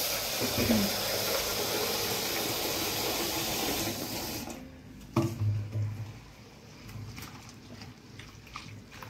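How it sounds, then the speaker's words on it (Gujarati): Running water splashing and swishing as urad dal lentils are rinsed, a steady wash that drops off midway into softer sloshing and faint clinks. "એવી જ રીતે આ દાળ ધોઈ નાખશું 2 પાણીએ"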